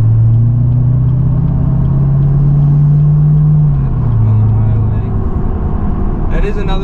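An L5P Duramax diesel pickup, a Denali daily driver with about 90,000 miles, accelerates onto a highway, its low engine drone rising steadily and then easing off over constant road rumble, with a brief voice near the end.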